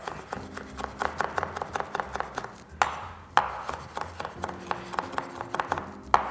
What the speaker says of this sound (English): We'll just take all these herbs and just give them a quick rough chop.